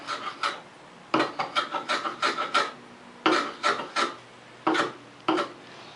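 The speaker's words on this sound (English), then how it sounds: "And chamfer the tenon end." Rasping strokes on the end of a wooden tenon as its four edges are chamfered, coming in quick bursts of short scrapes with brief pauses between them, close and fairly loud.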